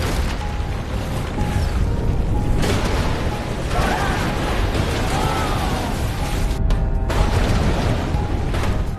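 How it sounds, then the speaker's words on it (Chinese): A nuclear reactor explosion in a Korean disaster film sounds as a sustained, loud roaring rumble with deep booms and rushing debris noise, continuous throughout, briefly dipping before surging again. "震彻云霄的爆炸后"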